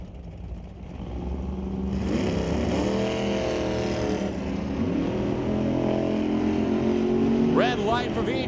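A 1972 Plymouth and a 1969 Chevy Camaro at a drag race, engines droning loud and close, then rising as they rev and accelerate, with a track announcer's voice over the noise.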